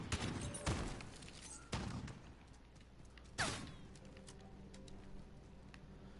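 Distant gunfire in Call of Duty: Modern Warfare, a few sharp separated shots with a faint crackle of further firing between them, fairly quiet overall.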